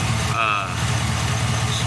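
Engine of a vehicle running as a hydrogen fuel cell hybrid with straight exhaust off the catalytic converter, idling steadily and loud up close with a low, even rumble for the whole stretch.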